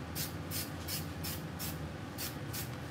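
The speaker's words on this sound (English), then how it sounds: "So we're just gonna spray another round of spray adhesive." Spray adhesive hissing from an aerosol can onto glitter coasters, several short even bursts repeated in a steady rhythm, close and fairly quiet over a low room hum.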